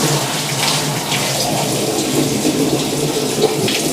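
A bucket of water poured fast down a shower drain gives a loud, steady rush and splash that holds for the full few seconds with no talk over it.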